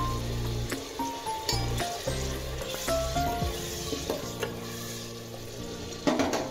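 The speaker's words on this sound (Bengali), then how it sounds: "এর মধ্যে আমি কাঁচা লঙ্কা, আদা, রসুন আর শুকনো লঙ্কা যে বেটে রেখেছিলাম ওইটা দিয়ে দিলাম" Paste of green chili, ginger, garlic and dried red chili frying with softened onion in a pan for handi chicken, a steady close sizzle broken by repeated scraping and stirring strokes of a spoon.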